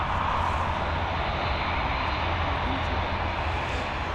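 An Aer Lingus Airbus A320 lands on runway 28 at Dublin Airport, giving off a steady, broad jet roar that stays loud and constant throughout, heard outdoors from the airport perimeter with no talking.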